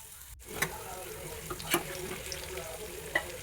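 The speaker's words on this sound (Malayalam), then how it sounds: "ഈ തിരുമ്മി വെച്ചിരിക്കുന്ന ചെമ്മീൻ അതിലിട്ട് ഒന്ന് ഫ്രൈ ചെയ്തെടുക്കണം." Marinated prawns frying in hot oil for a prawn and potato roast, a soft continuous bubbling hiss broken by a few sharp pops and light clinks nearby.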